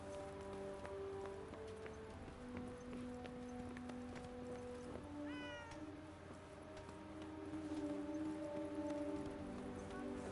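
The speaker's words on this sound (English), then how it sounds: "Chase after the cat and try not to lose sight of it" A calico cat in a fantasy action game meows in several clear, close calls over a steady bed of rain and ambient tones, with one rising, drawn-out cry partway through.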